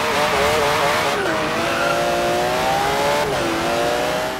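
A McLaren F1 and a Porsche 911 GT3 RS launch side by side in a Forza Horizon 3 Hot Wheels drag race, engines screaming loudly at high revs with a gear-shift dip and tire squeal, close and sustained throughout.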